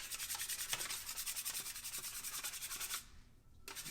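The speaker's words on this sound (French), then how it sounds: "je vais enlever l'excès de plâtre" A drywall knife wipes excess dried plaster joint compound off a wall in quick, rhythmic scraping strokes, close and steady, then a brief pause before scraping resumes; no one speaks.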